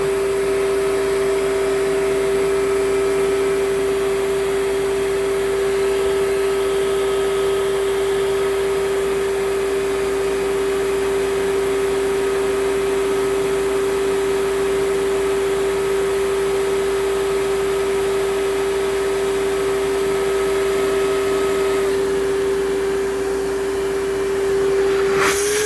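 An Advance Spectrum 12P vacuum runs steadily during an airflow test, a loud, constant motor roar with a strong steady whine that holds unchanged until it stops at the very end.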